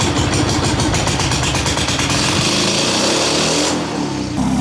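A Mazda Miata car engine runs steadily with a loud, rough, buzzing idle, continuous throughout and close by, dropping briefly near the end.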